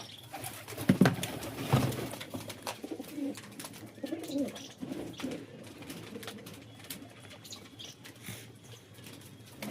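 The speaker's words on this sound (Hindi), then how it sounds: "देखिए वो ऊपर से नीचे आना शुरू हुआ है, कबूतर ये आ रहा है।" Wild and domestic pigeons coo softly in short, low, repeated calls, with faint bird chatter and quiet background noise and no talking.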